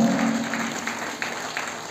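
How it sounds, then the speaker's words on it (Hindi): Short spell of light audience clapping at an English training academy's annual seminar in Tagore Hall, soft and scattered, fading after a tonal note at the start. "ताली बजाइए प्लीज"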